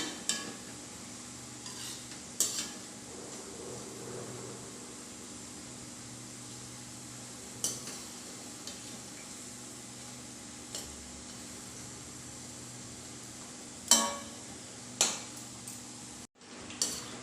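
Rice flour snacks fry in a pan over a low-to-medium flame while being turned now and then, giving a steady soft sizzle with a few sharp utensil clinks and scrapes scattered through.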